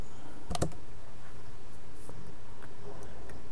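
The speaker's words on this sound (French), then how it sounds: "Et je clique sur Entrer sur mon clavier." A single sharp key press clicks up close, followed by a few faint ticks against a quiet room hum.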